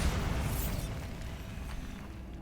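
A Bombarda spell goes off in the Hogwarts Legacy video game, a loud, low booming blast that rolls on as a sustained rumble for a couple of seconds.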